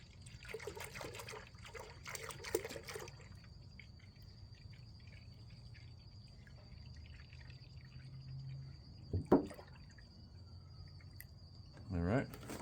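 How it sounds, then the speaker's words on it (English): A gallon of grass-fed milk is poured into a pot, making a brief, soft trickling splash at the start, followed by quiet handling noises over a steady, thin high whine. "So I'm going to pour a gallon of milk in here."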